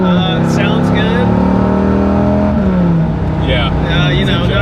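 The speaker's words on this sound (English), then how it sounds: "the Petrolicious exhaust sound is spot on" A Dodge Viper with a Petrolicious exhaust gives a loud, raw, steady engine drone from inside the cabin, its pitch sliding gently, while people talk over it.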